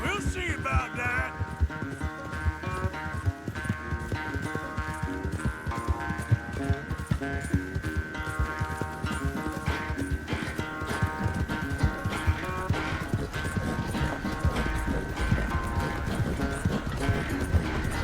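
Horses race at a gallop in Red Dead Redemption 2, with rapid, continuous hoofbeats pounding close by throughout, a busy rhythmic clatter that also carries an occasional voice.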